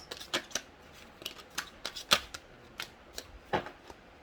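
Tarot cards are shuffled and drawn by hand, a run of brief crisp riffles and snaps at uneven intervals, close and fairly quiet against a near-silent background.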